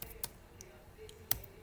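Computer keyboard typing while entering a data filter: a few sparse, faint key clicks spaced irregularly, with one sharper tap near the end and quiet room tone between.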